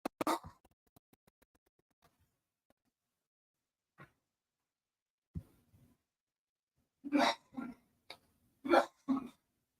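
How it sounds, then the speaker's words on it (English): A man's scattered short, sharp coughs and throat sounds, a few isolated ones early, then a cluster of harsher coughs toward the end, fairly close. "I'm sure y'all can hear my husband coughing. Coughing his rear off."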